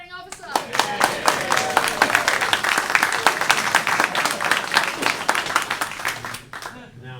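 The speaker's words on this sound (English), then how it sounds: "let's have some applause for our training officer" Applause for a training officer at a docent class training ceremony, a room of hands clapping steadily for about seven seconds, with a few faint voices and a lone clap ringing out near the end.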